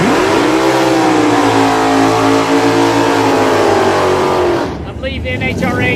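Pro Stock drag race cars revving loudly at Virginia Motorsports Park, a sustained high-pitched engine roar that holds for several seconds and then cuts off, with a commentator talking over it.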